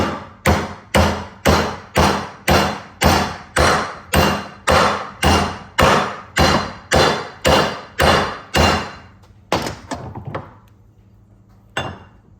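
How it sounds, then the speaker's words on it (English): A new wheel stud is hammered into a side-by-side hub: about fifteen loud, evenly spaced metal strikes in a steady rhythm, then a pause and a few scattered final blows, close up with no talking. "Got my new wheel stud. Just going to put it in there and then just drive it in."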